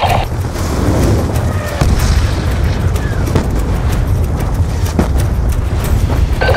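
Enemy tanks firing on a base in Call of Duty Black Ops 2, with a steady loud rumble of battle, heavy booms and explosion bursts that keep going throughout with no quiet gaps.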